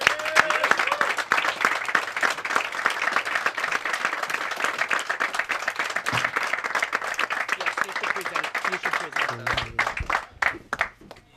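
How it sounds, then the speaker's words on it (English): Audience applause for newly appointed instructors at a government certificate ceremony: dense, steady clapping that holds for about ten seconds before thinning and tapering off, with some voices underneath. "give the new instructors a round of applause"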